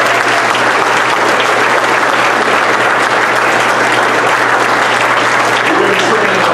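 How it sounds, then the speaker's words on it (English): Loud, dense applause fills an awards-ceremony hall as the audience claps for the coaches, a steady wash of hand claps lasting throughout. "Let's give our coaches an amazing round of applause."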